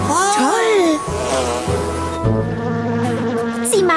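Cartoon bees buzzing in a German-dubbed PAW Patrol episode, a bright, wavering whine of insect wings over a sustained tonal hum, with a voice speaking partway through and gliding buzz sweeps at the start and end.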